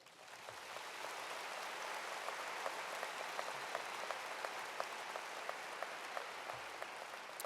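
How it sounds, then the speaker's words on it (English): At a 2014 College of the Liberal Arts graduation ceremony, the audience applauds the faculty with steady, distant applause from a large crowd, a soft continuous patter with a few sharper claps standing out. "I ask the graduating seniors and all others here assembled to join me in applauding this distinguished group of individuals"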